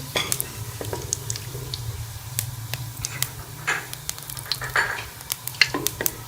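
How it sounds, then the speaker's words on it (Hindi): Oil sizzles steadily with a low hum beneath, while scattered sharp crackles and pops break through as whole garam masala spices fry close by. "ये साबुत गरम मसाला डालेंगे और इसे 1 मिनट के लिए हम फ्राई कर लेंगे"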